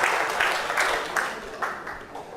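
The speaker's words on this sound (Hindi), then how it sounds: "वेल डन, तालियां बजाओ" An audience at a seminar bursts into applause, a dense wash of clapping that swells in several waves and fades slightly, with faint voices underneath.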